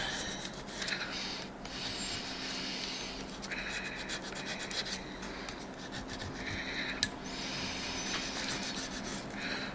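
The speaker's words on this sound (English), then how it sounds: "This is sandpaper. This is like 400 or 600 grit." 400 to 600 grit sandpaper crowning the frets on a Warmoth guitar neck, a continuous close rasping rub in repeated strokes with one sharp tick partway through, and no voices.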